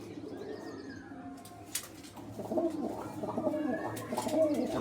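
Soft, repeated cooing of pigeons close by, low throaty calls rising in a steady rhythm, with a few light chirps and rustles.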